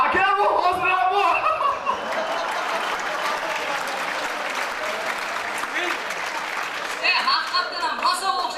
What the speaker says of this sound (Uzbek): Bizlarda ham yaxshi qarsak bo'lmasdi, bularda ham yaxshi qarsak